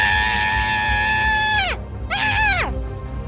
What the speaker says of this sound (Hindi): उसे देखकर विमला की सौतेली माँ जोर जोर से चिल्लाने लगी।